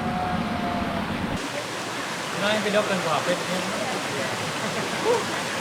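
The Sungai Yahe river rushes along a mountain trail on Gunung Binaya, a continuous broadband wash of flowing water that fills the scene.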